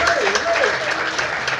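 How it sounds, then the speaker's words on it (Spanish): Applause from the congregation at a Spanish-language church service, a dense wash of clapping heard alongside a preacher's voice. "Dale un aplauso al Señor."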